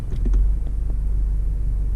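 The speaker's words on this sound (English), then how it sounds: "Just a little vibration coming from the engine." A 2017 Honda Accord Sport with a 4-cylinder engine and CVT idles in drive with the AC on, giving a loud, deep, steady rumble that pulses with a low vibration.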